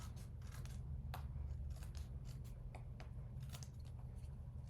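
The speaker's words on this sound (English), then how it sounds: "So just trim this off with my scissors." Scissors snip steadily through excess paper trimmed from a card-making panel, a run of close, crisp cuts over a low background hum.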